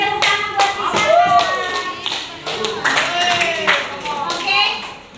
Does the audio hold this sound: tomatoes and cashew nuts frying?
no